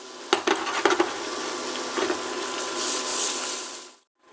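A few metallic scrapes and clinks of a utensil stirring caramel in a saucepan, then a steady bubbling hiss that cuts off abruptly.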